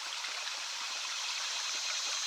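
A river riffle flows over a large gravel bar, giving a steady, full rush of water that holds at an even level throughout, with no voices.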